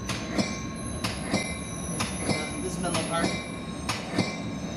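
A Caltrain diesel train runs near Menlo Park with a steady rumble, while sharp wheel clacks and squeals recur every second or so and faint voices sit in the background.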